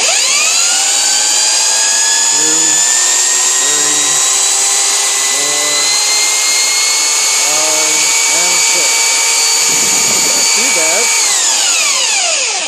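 Tacklife belt sander running at speed setting 1, a loud, steady high-pitched whine with a constant motor hum from start to finish, brief low murmurs underneath and the pitch sagging slightly at the end.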